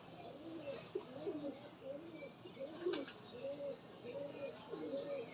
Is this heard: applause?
no